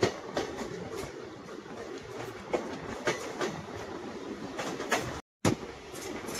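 The 11041 Dadar Shirdi Sai Nagar Express rolls into Ahilyanagar station, heard from on board as a loud, steady rumble with rhythmic wheel clatter over rail joints and a brief dropout near the end.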